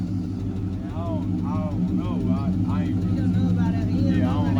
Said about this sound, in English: you can rev it up now, it's cool now. See what it sound like.